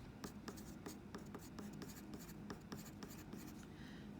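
Pen or pencil strokes scratch across paper by hand in quick repeated bursts, close and fairly quiet, with no talking.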